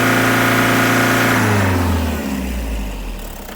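Car engine revving loudly as the accelerator pedal is pressed during on-the-spot troubleshooting of a suspected throttle problem, a close rising roar that then drops away toward a lower idle-like hum.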